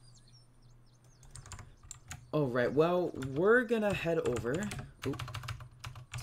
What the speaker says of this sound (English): Sorry, my keyboard is very clicky.